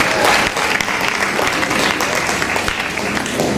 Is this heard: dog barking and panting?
no